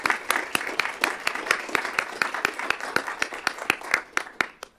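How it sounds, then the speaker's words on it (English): A board meeting room fills with applause, brisk overlapping claps at a steady pace that stay fairly loud for nearly five seconds before thinning out at the end. "That is applause worthy"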